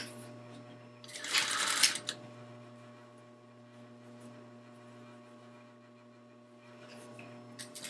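A sewing machine stitching a pillow cover seam at a half-inch allowance runs in one short close burst of about a second, followed by a low steady hum and a few faint clicks.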